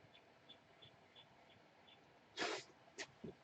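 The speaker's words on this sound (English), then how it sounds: "I'm sneezing." A person with hay fever lets out a sudden, forceful sneeze, then two short sniffs or snorts. Only faint, quiet room noise sits underneath.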